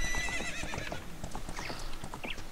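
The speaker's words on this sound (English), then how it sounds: "I got the horse over here" Hooves clip-clop rhythmically as a horse trots in a video game, with a bright neigh rising over the footsteps near the end; no talking.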